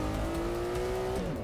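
A race car in Forza 6 climbs through the revs in one gear with a rising engine whine, then the pitch drops briefly at a gear change. The engine sounds steady and fairly quiet, with no talk over it.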